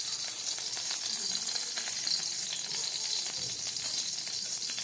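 Ghee heating in a warm kadai sizzles with a steady, bright hiss that holds evenly from start to end, close and moderately loud, with a voice faintly under it.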